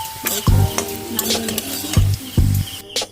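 Potatoes sizzle in hot oil with a constant crackling hiss, broken by a few loud metallic scrapes and knocks of a spoon against the pan.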